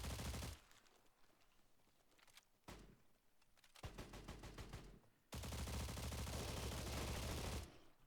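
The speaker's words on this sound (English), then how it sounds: "What is he fucking shooting me with?" Rapid bursts of video game gunfire during an anniversary event quest, with repeated automatic shots in several loud stretches broken by short pauses, the longest burst near the end.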